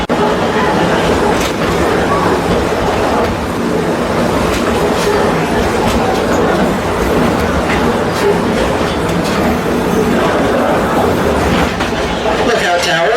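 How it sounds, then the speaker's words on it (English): A visitor train on the Cowichan Valley Railway rolls steadily through forest, its continuous rumble and rhythmic clickety-clack of wheels on track heard from aboard, with faint talk mixed in. "Welcome aboard the Cowichan Valley Railway."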